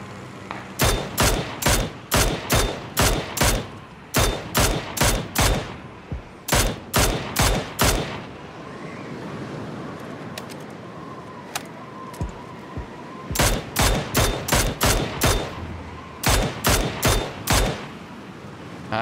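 Rapid bursts of UMP submachine gun fire in PUBG crack close and loud in repeated volleys, each string of shots separated by short pauses, with a quieter lull mid-sequence before more bursts resume.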